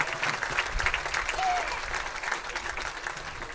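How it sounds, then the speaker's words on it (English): A football stadium crowd applauds veterans and active-duty military members before the national anthem at a high school game, a broad wash of clapping and cheering from the stands, steady and moderately loud. "How about one last round of applause for all our veterans and active duty military members"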